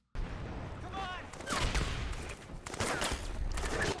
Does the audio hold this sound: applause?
no